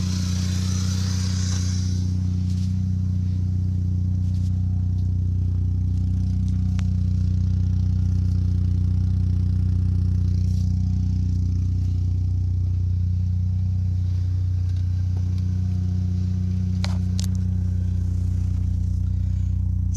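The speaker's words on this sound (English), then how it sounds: "It's got a very slight valve tick or like clearance noise, but it's not bad." A car engine with a slight valve tick idles steadily and close by, with a faint ticking clatter running through the low hum and no talking.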